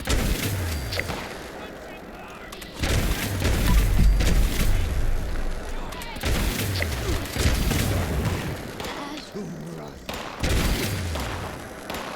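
Gunfire in Fallout 76, with repeated booming shots and fusillade-like bursts during a fight against raiders, mixed with a steady low rumble and voice in the background.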